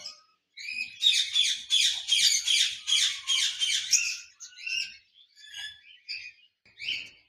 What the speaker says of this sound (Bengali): লাভবার্ড পাখি রয়েছে